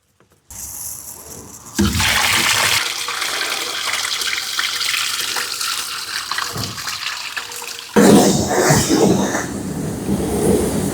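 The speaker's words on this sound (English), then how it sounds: "we're gonna go ahead and drain it and rinse it good" Water gushing out of a plastic IBC tote as it is drained and rinsed, a loud, steady splashing rush that surges louder partway through and runs continuously.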